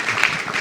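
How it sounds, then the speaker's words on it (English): A brief burst of audience applause at a talk by a swami, a short wash of clapping that starts and ends within a moment. "maybe you can give yourselves a round of applause for being a wonderful audience"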